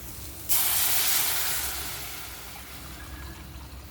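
Water poured into a hot pan while cooking noodles sets off a sudden loud, broad hiss of steam that bursts in abruptly and slowly fades over a few seconds, with no voices.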